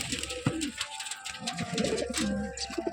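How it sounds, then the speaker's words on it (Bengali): Pigeons coo repeatedly in a home loft of breeding pairs, soft throaty calls rising and falling close by, with brief wing flutters and scuffling among the birds. "পায়রাগুলো তো দেখলেন আপনারা"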